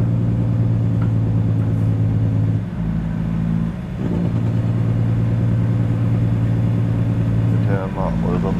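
Caterpillar 3406E diesel in a Peterbilt 379 from American Truck Simulator, a loud steady low engine drone under load running throughout, with brief dips and someone talking over it.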